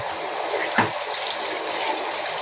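Water poured for a child's bath at home, a steady splashing wash with one brief louder slosh near the start, close by and alone.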